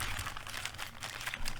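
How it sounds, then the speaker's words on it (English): Trading cards shuffled by hand, a dense run of close, crisp riffling and card-edge clicks across the whole stretch, with no talk over it. "One more shuffle."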